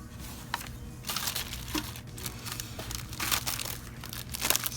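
Plastic crinkles and crackles in bursts while a GameShell handheld console is being assembled, close and fairly quiet, with irregular rustling handling throughout.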